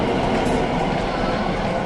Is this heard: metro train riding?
yes